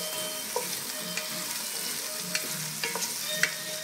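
A lentil dish with a little chopped pepper sizzles steadily in a pan while a utensil stirs it, with a few sharp scrapes and clicks against the pan over the constant close frying hiss.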